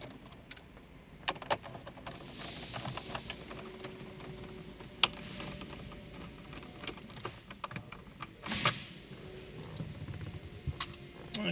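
Small clicks, scrapes and plastic rattles from 7mm screws being backed out of a Holden Cruze dashboard around the stereo, steady close-up handling noise with no talking.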